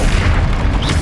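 A Bombarda spell explodes in Hogwarts Legacy, a loud, dense low boom filling the whole brief moment with no pause.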